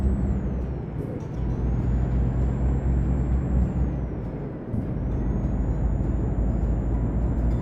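A DAF XF Euro 6 truck in Euro Truck Simulator 2 climbing through its gears, the steady engine drone dipping briefly at each shift near one and five seconds, loud and close with no talk.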